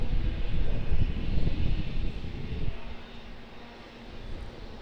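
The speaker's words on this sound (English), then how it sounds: "ATR, A320, both taxiing out" Aircraft engines rumble near an Auckland Airport apron as an ATR turboprop and an Airbus A320 taxi out, a loud broadband roar that eases after a few seconds into a steadier, quieter drone with a faint tonal hum.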